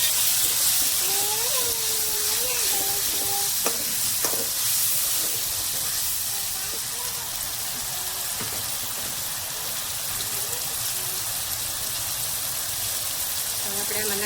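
Chopped onion, tomato, green chili and garlic fry in a hot pan with a steady, close hiss that runs the whole time. A voice hums or speaks briefly near the start.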